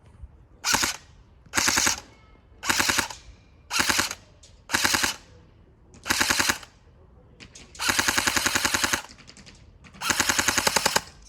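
AKS-74 SA-J72 CORE airsoft rifle firing 0.25 g BBs at ranges up to about 50 metres, nine sharp bursts of rapid full-auto clatter separated by short pauses, the last two bursts longer, close and loud.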